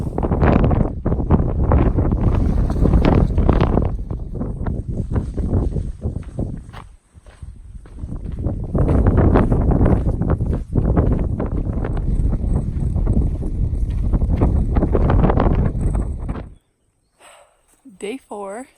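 Strong wind on a mountain along the Pacific Crest Trail roars and buffets the microphone in long, loud gusts, easing briefly once before dropping away into near silence at the end.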